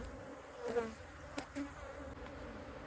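Aggressive honey bees buzz around a beekeeper at a hive in Texas Hill Country, a faint, steady drone with a few louder passes as individual bees fly close, and no talking.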